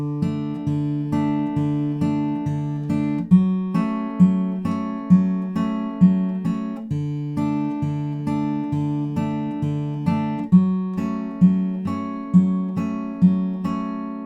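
Fingerpicked acoustic guitar plays the intro of a song, a steady, repeating arpeggiated pattern with clear plucked notes and regular accents, alone with no voices.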